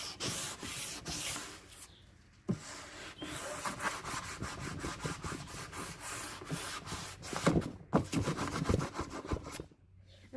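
Sandpaper is worked hard over new wood boards, making loud, close, continuous rasping strokes with brief pauses between passes and no speech.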